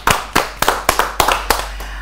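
An audience claps in a studio show, sharp bursts of applause arriving in a quick, fairly regular rhythm of about eight close, loud claps over two seconds.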